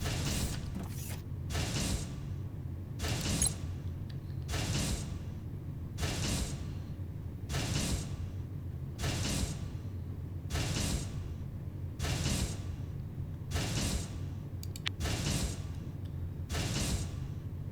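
Factory machinery in the video game Foundry runs in a steady cycle of sharp mechanical clanks and creaks, repeating roughly every 1.5 seconds over a low continuous hum, with no talking.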